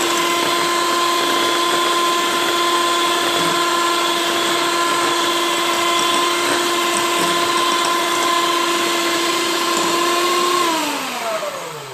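An electric beater whirs steadily at high speed through sponge cake batter, a loud continuous motor hum with strong tonal drone that holds for most of the time, then winds down and drops in pitch at the end.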